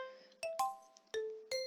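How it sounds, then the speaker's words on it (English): A school bell in a visual novel game sounds as four bright, bell-like chime tones in a ding-dong pattern, each struck note ringing briefly with clean overtones against near silence. "to my surprise, the bell rings"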